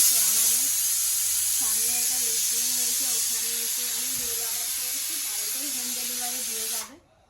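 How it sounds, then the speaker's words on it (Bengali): A pressure cooker boiling potatoes lets out a steady, loud hiss of steam with a wavering whistle-like tone riding on top, which cuts off abruptly near the end. "ওদিকে প্রেশার কুকারে আলু সিদ্ধ বসিয়েছে"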